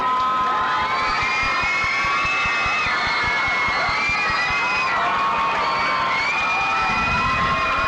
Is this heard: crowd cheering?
yes